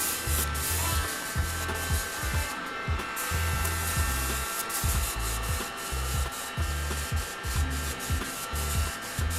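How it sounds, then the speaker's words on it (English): A heat dryer blows steadily while drying airbrushed paint, a continuous airy rushing with a low uneven throb underneath, close and fairly loud throughout with no talking. "I'm still gonna use the heating dryer."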